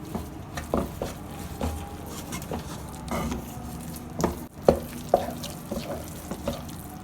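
Dry spices being stirred into a chicken mixture for chicken roti rolls, heard as soft wet scraping and stirring with a few sharper clicks of a utensil against the bowl, close by and with no talk.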